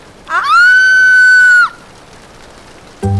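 A woman lets out a single loud, sustained high-pitched scream lasting about a second, cutting off abruptly into near silence before a short low thump.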